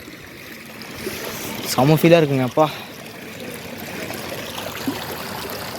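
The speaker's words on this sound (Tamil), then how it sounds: "சின்ன கல்லறு அருவின்னு சொல்லுவாங்க அதை." Small Kallar waterfall at Valparai gives a steady rushing, splashing water noise that runs throughout, with someone talking briefly over it near the start.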